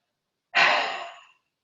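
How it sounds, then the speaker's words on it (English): One forceful, breathy exhale during a chair yoga routine, rushing out loud and close, then tapering off over about a second, alone against silence. "as you breathe out, the arms are going to come forward"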